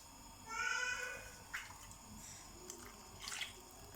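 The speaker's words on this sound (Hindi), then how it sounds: "फिर हम इसमें थोड़ा सा पानी डाल के" Water is poured into a tamarind chutney being made at home. It comes as a short, faint splashing pour, followed by a few soft drips and light knocks in a quiet room, with no talking.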